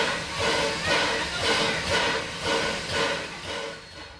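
Sierra Railway steam train running near Quartz Junction at Railtown 1897, giving a steady rolling rumble with rhythmic surges of hissing chuff about every half second, fairly loud and continuous with no voices.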